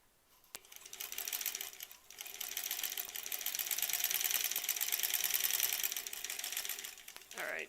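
A sewing machine stitches quilt squares in a steady whirring, clattering run that starts, pauses briefly and resumes, speeding up and holding near the middle before stopping, close by with no one talking.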